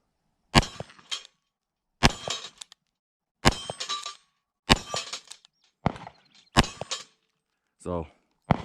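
A Ruger SP101 .357 snub-nose revolver firing six loud, close, sharp cracks, each with a short ringing tail and metallic clatter, spaced roughly a second and a half apart and followed by a brief muffled sound at the end.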